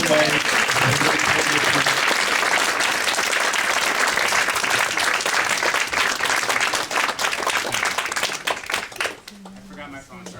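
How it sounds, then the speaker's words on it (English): Sustained audience applause at a campaign stump event in Mount Vernon, Iowa, dense and steady for about nine seconds before tapering off, with a speaker's voice coming through at the end. "Give them a round of applause."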